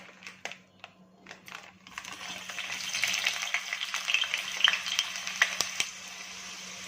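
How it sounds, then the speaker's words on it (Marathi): Cubes of paneer fry in hot oil for biryani, starting with a few faint clicks and drops before a close, crackling sizzle swells and holds steady with small pops. "पनीर आपण तेलामध्ये थोडेसे फ्राय करून घेणार आहोत"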